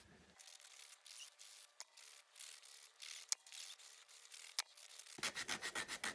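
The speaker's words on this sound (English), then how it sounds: "take my little gator sander, and I'm going to sand the edges of all of these little signs" A small gator sander works along the painted edges of little wooden winter shelf-sitter signs, giving steady close rubbing and scraping strokes with brief sharp ticks, ending in a quicker rhythmic run of short strokes.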